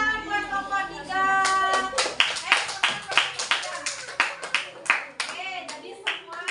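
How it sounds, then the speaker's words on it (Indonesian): Children in a primary school classroom clap for a group of classmates, a few rapid claps at first, then a steady run of separate clap bursts mixed with voices. "tepuk tangan buat kelompok 3"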